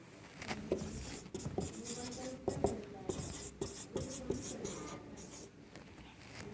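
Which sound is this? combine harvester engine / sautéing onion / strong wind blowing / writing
writing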